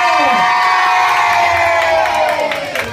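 Children and adults cheering and shouting at a child's birthday party, loud high-pitched voices dominating with a sustained crowd whoop and faint clapping underneath.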